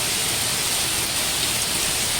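Heavy rain pours steadily and loudly for an extended stretch, a dense unbroken hiss with no other sounds standing out.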